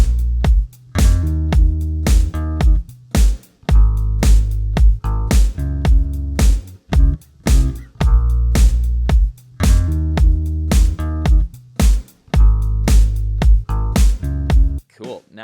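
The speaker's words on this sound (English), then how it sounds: "That bass with our drum kit sounds like this." A bass guitar repeats a single low note over a tight drum kit groove in a cover of a song. Steady punchy beats and bass pulses play alone at a loud, even level for the whole stretch.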